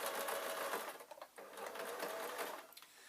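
A sewing machine stitches the elastic waistband of a baby's kilt, a rapid mechanical whir running steadily at close range with a brief pause midway.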